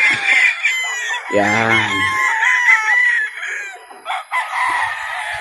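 Gamefowl roosters crow on a game farm, one loud, close crow rising and falling over a chorus of more distant crowing, with someone briefly speaking.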